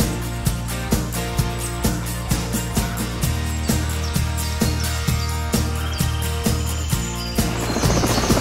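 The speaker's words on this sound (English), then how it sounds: "An Air Force Mi-17 helicopter was utilized to drop" An Air Force Mi-17 helicopter flies over a forest reserve in Sri Lanka's north central region during an aerial seed bombing run. Its rotor gives a steady, rhythmic low thump under a continuous engine drone, with no voices.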